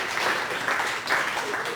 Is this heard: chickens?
no